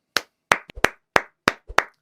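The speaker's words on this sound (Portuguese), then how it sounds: "aplausos." Several sharp, distinct hand claps ring out close and clear in an irregular rhythm, about eight separate strikes with brief silences between them and no voices.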